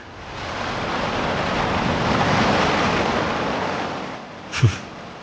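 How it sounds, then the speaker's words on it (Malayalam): Sea surf crashes and rolls in a steady, broad roar that swells toward the middle, with wind buffeting the microphone and a brief sharp thump near the end. "കടലെപ്പോഴും അശാന്തമാണ് ഇതിനൊരിക്കലും ശാന്തമാകാൻ പറ്റില്ലേ"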